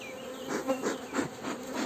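Black honeybees buzzing steadily around a queen cage in a hive, a dense close hum with pulsing swells, no talk.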